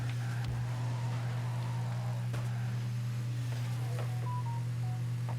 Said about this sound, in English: And I forgot to mute my phone.